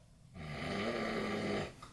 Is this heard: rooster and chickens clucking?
no